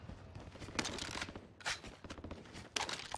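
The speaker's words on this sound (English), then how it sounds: "Gunshots over on the buy station." Gunfire in the video game Warzone: bursts of rapid shots crack out in three clustered volleys at mid distance, quick and sharp, with faint background game noise between them.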